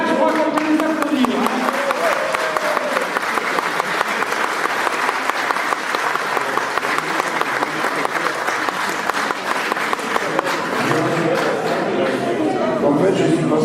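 A crowd applauds at the prize-giving of the first Rallye Classic Val de Nuit in 2019, steady, even clapping filling roughly fourteen seconds at moderate distance, with voices faintly audible at the start and end.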